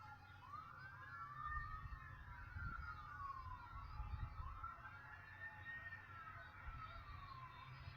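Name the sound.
ambulance siren outside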